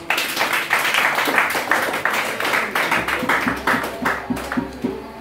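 A church congregation at a worship service applauding the Lord Jesus, loud, sustained clapping from many hands that settles into a steadier rhythmic beat, with some voices underneath.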